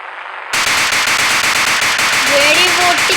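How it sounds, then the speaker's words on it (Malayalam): A string of firecrackers bursts after a short quiet lead-in, making a loud, rapid, continuous crackle. A rising whistle-like tone comes in near the end. "വെടി പൊട്ടിക്കും."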